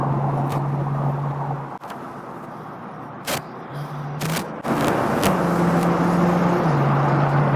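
A 1937 Ford street rod drives along with a steady engine hum and road noise, with a few sharp clicks and thumps from inside the cab, close and fairly loud.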